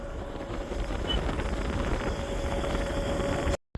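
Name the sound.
strong wind while riding a motorbike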